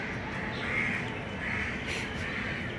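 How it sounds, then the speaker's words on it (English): A crow caws at a zoo, its harsh calls repeating over a busy background of ambient noise and other birds, heard at moderate distance without any talking. "a crow as well."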